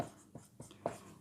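A pen writing on paper during a Class 10 math lesson, giving a few short scratchy strokes close by and fairly quiet over about a second.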